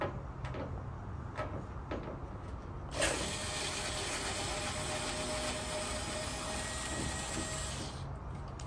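A screwdriver or drill removes the screws that hold a dryer's door to its body, with clicks and scrapes at first, then a steady loud whirring drone from about three seconds on.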